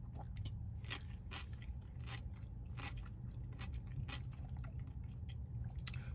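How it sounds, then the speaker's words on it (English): Crunchy fried chicken from Dave's Hot Chicken being bitten and chewed close up, a series of crisp crackling bites and wet chewing with no talk. "When you bite into it, outside is crunchy, inside is soft."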